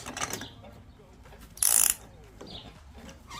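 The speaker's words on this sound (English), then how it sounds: "So I'm taking my wrench, and you can see how much slack there is." A wrench works on the oil filter of a Husqvarna riding mower, with quiet mechanical clicks and one brief sharper ratcheting burst in the middle, close by and faint overall.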